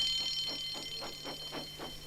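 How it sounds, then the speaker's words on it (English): A railway alarm in a Thomas the Tank Engine story sounds as a faint, steady pulsing ring, with roughly six even beats repeating under a high tonal hum. "Soon came the alarm."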